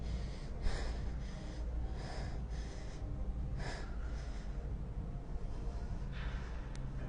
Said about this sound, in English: The downside of having a microphone is you can probably hear all of my breathing.